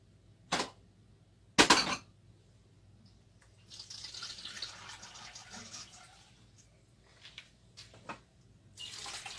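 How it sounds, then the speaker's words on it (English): Water runs from a tap and is poured into a cooking pot in bursts, with clattering knocks at the start and intermittent splashing throughout, fairly close and moderately loud. "Then I need to add water."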